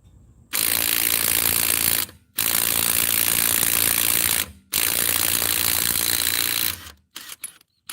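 A Bauer 20V Hypermax 3/8-inch compact impact wrench hammers on a car lug nut in three long, loud rattling bursts with short pauses between, then stops and a few brief clicks follow.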